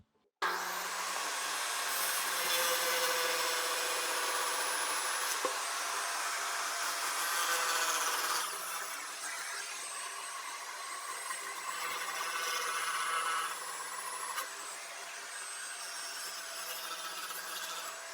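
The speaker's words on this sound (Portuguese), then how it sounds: "Para fazer esse corte, vamos utilizar a serra de mesa." A table saw cuts through a wooden stair step in a long, steady whining buzz that runs for many seconds and shifts slightly in pitch as the blade moves through the wood.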